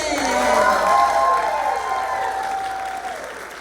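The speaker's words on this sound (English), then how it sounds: "Please give a round of applause" Audience applause at a variety show, a steady broad wash of clapping and crowd noise that swells early and then holds fairly loud, with some cheering mixed in.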